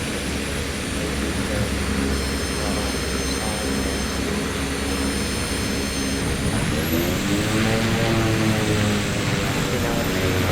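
A STOL plane in Microsoft Flight Simulator 2024 drones steadily while flying low, its engine a continuous loud hum with shifting tones as the pitch changes near the end.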